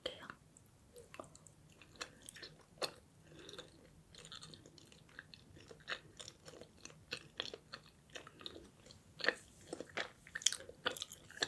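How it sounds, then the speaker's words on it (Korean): Close-up chewing of soft, springy fruit rice cake (tteok) in the mouth, with moist squishes and small bites in an irregular rhythm and a faint voice now and then. "하나 더 먹을게요."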